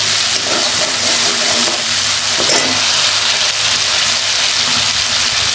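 Spice masala sizzling and frying steadily in a hot pan as it is cooked down for a river fish dish, a dense, loud, continuous crackle with no talk.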